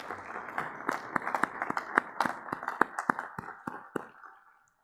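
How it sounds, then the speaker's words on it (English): A small crowd at a primary schools launch event gives scattered, irregular hand claps, fairly sharp and close but modest in volume, thinning out and fading away after about four seconds. "you should give yourselves a round of applause"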